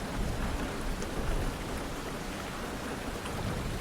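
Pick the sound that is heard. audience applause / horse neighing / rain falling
rain falling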